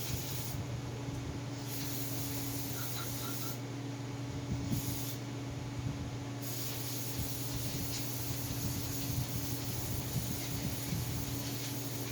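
A steady, close hiss of spray rinsing a Mopar 727 Torqueflite transmission accumulator piston runs unbroken and fairly loud, with no talk over it.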